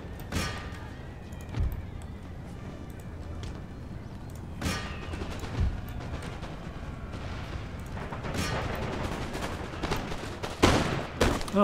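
Musket volleys in Empire Total War, with ranks firing in turn: sharp cracks repeat across the field, some near and some distant, building into a denser crackle of shots toward the end.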